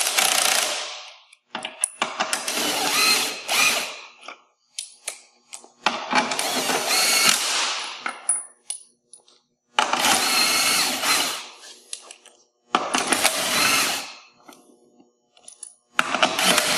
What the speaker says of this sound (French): on va venir insérer les boulons avec un serrage temporaire